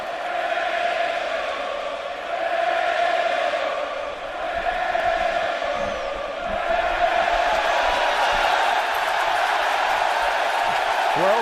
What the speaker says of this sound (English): this standing room only crowd trying to get under Johnny Cueto's skin